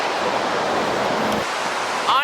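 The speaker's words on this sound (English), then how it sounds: "the waterfalls just keep getting better and better" A waterfall in the Columbia River Gorge gives a steady broadband rush of falling water, close and continuous, with a brief chirping sound at the end.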